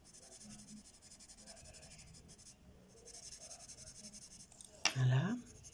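A coloured pencil presses back over lines already drawn on paper, giving a soft, close scratching and rubbing that runs steadily, with quiet talk at times and a brief louder rustle near the end.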